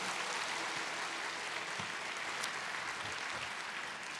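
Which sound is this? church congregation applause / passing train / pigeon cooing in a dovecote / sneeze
church congregation applause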